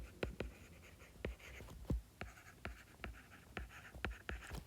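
Pen or pencil scratches quickly on paper while notes are written, a close, quiet series of short strokes and taps in an uneven rhythm.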